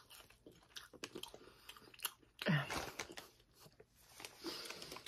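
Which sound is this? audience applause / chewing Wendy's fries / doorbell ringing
chewing Wendy's fries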